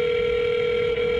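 A telephone dial tone plays while a call is placed to an apartment complex, a single steady continuous tone, loud and close, with nothing else heard.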